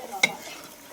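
Onion paste frying in a pot, a soft steady sizzle with one sharp scrape of a spoon stirring it near the start, close and alone.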